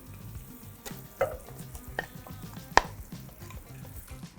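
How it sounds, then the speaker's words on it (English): Seared beef goes into a pan after a Shaoxing wine deglaze, and a low, steady sizzle follows, broken by a few sharp clinks and scrapes of utensils. "now I'm going to go in with my seared beef"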